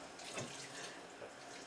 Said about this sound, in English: I'm going to rinse it.